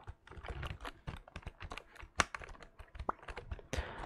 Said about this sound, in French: ou même des très bons bruits pour des claviers à membrane